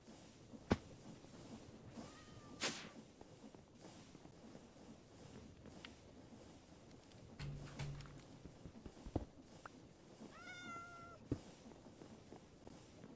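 A cat in the video game Minecraft gives two rising, whiny meows several seconds apart, with faint clicks and soft game noises in between and no speech.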